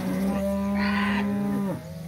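A single long, loud cow moo rises and falls over about a second and a half, heard alone and up close, from a cattle mob grazing a cocklebur field behind an electric hot-wire fence.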